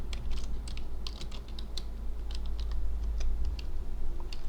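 Rapid, light key clicks from a computer keyboard in irregular bursts, close up over a low steady hum, with no talk.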